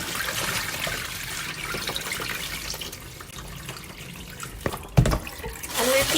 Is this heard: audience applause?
no